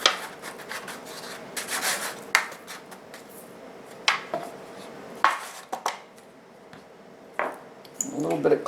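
Cinnamon being rubbed by hand into a primitive farmhouse-style Christmas decoration, close scratchy rubbing strokes in irregular bursts with a few sharp taps, under a quiet room tone.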